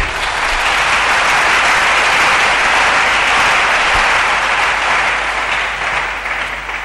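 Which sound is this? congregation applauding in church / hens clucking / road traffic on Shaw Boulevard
congregation applauding in church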